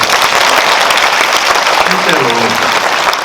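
A cinema audience at a film Q&A screening event claps in a loud, dense burst of applause, with a faint voice briefly audible underneath toward the end.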